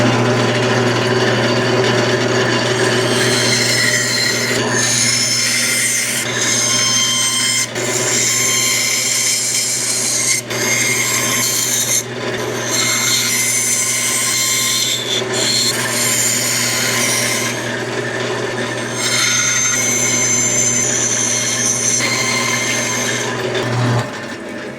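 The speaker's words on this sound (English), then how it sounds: "Now we'll go cut it out on the bandsaw." A bandsaw cuts a traced spoon blank out of a board, a steady loud motor hum under continuous rasping wood-cutting noise that runs almost unbroken for the whole stretch, with brief dips as the blade pauses or turns.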